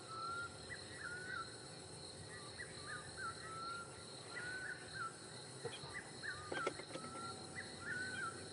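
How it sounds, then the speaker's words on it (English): A black cuckoo calls on an evening safari drive at Djuma and Arathusa, its short whistled phrases repeating every couple of seconds over a steady hum of insects and distant birds. "It's a black cuckoo."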